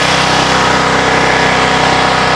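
A riding lawnmower engine runs steadily at close range, a continuous loud idle-like drone holding even throughout with no speech over it.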